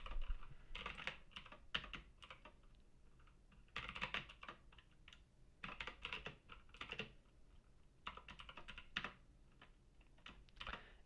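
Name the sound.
typing HTML code on a computer keyboard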